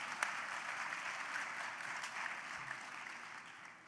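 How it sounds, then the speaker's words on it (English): Audience applause at an opening address, a steady broadband wash of clapping that holds for the whole stretch and fades slightly at the end. "That's an applause line. You're supposed to applause for that."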